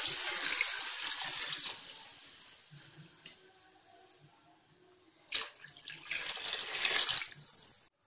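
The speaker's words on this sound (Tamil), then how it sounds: "நாம ஒரு லிட்டர் தண்ணி போல இத ஆட் பண்ணிக்கலாம்" Water poured from a container into a pan of egg gravy in a home kitchen, a steady splashing rush heard in two bursts with a quieter pause between them.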